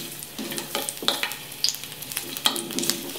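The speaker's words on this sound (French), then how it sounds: "Une fois qu'elle est chaude, je vais venir mettre mes gousses d'ail pour les saisir rapidement." Garlic cloves sizzle and crackle in hot olive oil in a pan while being stirred, with a steady frying hiss and scraping stir strokes recurring every second or so, close and fairly loud, no talking.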